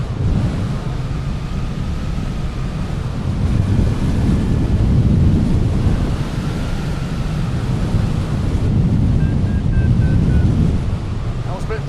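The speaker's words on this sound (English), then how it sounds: "Quite windy." Strong wind roars and buffets continuously across the microphone during a hang-gliding race at the 2025 World Hang-gliding Championships, a loud, steady rumble with gusts rising and falling.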